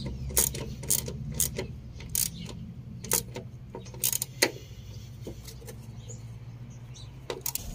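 A screw holding the ground cable of a car siren is tightened, giving a series of crisp, evenly spaced ratcheting clicks close up, separated by short pauses over a low background hum.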